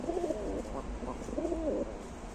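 Ukrainian high-flying tumbler pigeons coo close by, soft rolling throaty calls repeated in two clear phrases over a low background hum.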